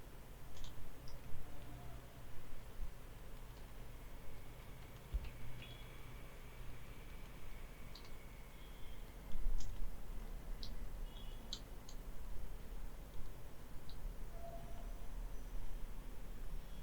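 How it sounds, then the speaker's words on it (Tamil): Sparse, light clicks and taps from a computer keyboard and mouse are spread irregularly over a quiet room tone, faint and close, with a small burst of activity partway through and no talking. "இந்த இடத்துல டைப் பண்ணுறேன்."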